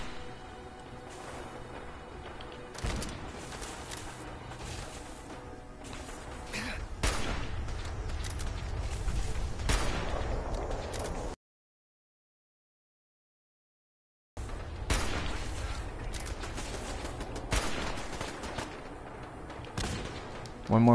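Gunfire from a firefight in Fallout 4, loud bursts and thuds recurring across the span, broken by a brief silent gap, with game noise throughout.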